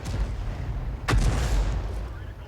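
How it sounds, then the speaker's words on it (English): Enemy artillery fires in World of Tanks, one sharp booming shot at about one second with a short rumbling tail, heard over steady engine drone and some nearby talk. "that's the enemy Arty firing in our direction"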